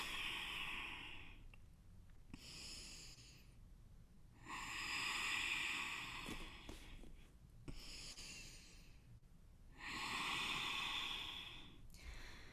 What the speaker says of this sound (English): Deep inhales and exhales.